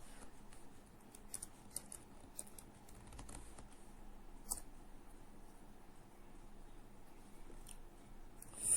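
Quiet, close keystrokes patter on a computer keyboard in an uneven run, soft and steady with a few louder clicks, with no voice.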